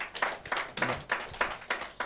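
A church congregation at a Sunday worship service claps in a steady rhythm, about seven even, moderately loud claps in two seconds, with no talk over them.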